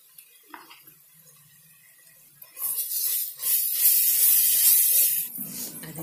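Ginger garlic paste hits hot oil with browned onions for a crab curry, bursting into a loud, steady sizzle after a few quiet seconds of faint kitchen clatter, then hissing on strongly and evenly before easing slightly at the end.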